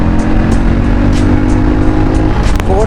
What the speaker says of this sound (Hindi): अब हम लोग चलते हैं और करते हैं हमारी हीरो मैवरिक 440 की टॉप स्पीड को राइड